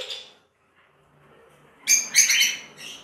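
Pet lovebird pairs (lutino, wild-type and harlequin white-face) chirp in an aviary: a brief call at the start, then a loud burst of close, overlapping chirps in the last second, with no one talking.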